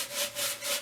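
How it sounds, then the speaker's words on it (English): A dry handful of wood shavings rubs excess oil off a turned natural-edge cedar bowl, giving three soft, even swishing strokes in a steady rhythm, close and alone. "I'm going to wipe off the excess oil with some dry shavings"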